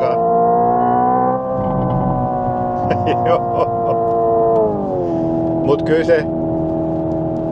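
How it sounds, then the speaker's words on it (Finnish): A Hyundai's exhaust pops and crackles with unburnt fuel over a steady, droning engine hum, sounding a few scattered bursts while people talk briefly nearby. "Vähän röpöttää pakoputkessa palamatonta bensaa."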